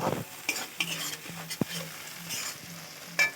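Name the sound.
stir-frying spices for egg potato curry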